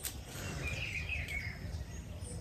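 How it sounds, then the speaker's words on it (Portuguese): Early-morning birdsong outdoors at about 5 a.m. before light rain, a steady chorus of chirps and a rising whistled phrase over a low background hum, fairly faint and continuous with no talking. "as músicas dos pássaros. Estão cantando, estão felizes, né?"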